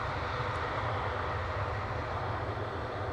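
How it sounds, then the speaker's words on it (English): Delta Airlines Airbus A350 arriving at Amsterdam Schiphol Airport after a flight from Atlanta, a faint, steady distant jet roar with a broad low rumble and no other sounds. "The only A350 of the show coming in, Delta Airlines Flight 74, arriving from Atlanta"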